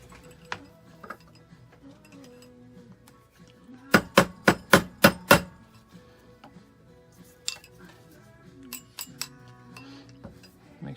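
Sharp metallic taps of a hammer on a twisted fork ring seated on a steel ring mandrel, a quick run of about six loud, evenly spaced strikes, then a few lighter scattered taps.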